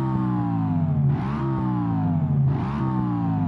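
A Mercedes-AMG S63 engine in BeamNG.Drive hums steadily from inside the cabin, revving up twice with rising pitch, loud and continuous with no talking.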